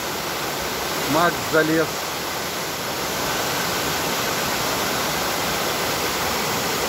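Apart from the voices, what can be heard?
waterfall rushing in Vietnam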